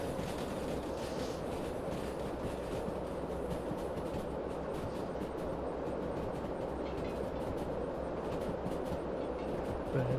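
Train running in a railway video game, a steady low rumble with a faint rhythmic clatter that stays even and fairly quiet throughout, with no talk.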